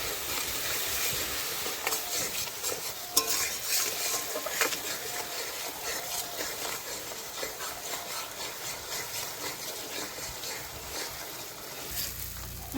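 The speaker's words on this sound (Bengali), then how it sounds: "ভালো করে ভেজে নেব।" Spices, salt and turmeric fry and get stirred in a pan for a duck egg curry, a steady sizzle with scraping and rubbing strokes throughout, close and quiet.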